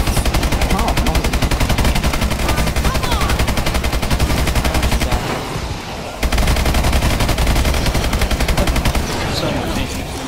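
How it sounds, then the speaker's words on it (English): Light machine guns rattle in Call of Duty Advanced Warfare Zombies, a loud, continuous rapid-fire stream of shots that briefly drops away near the middle before resuming, with players' voices faintly underneath. "LMGs. So powerful."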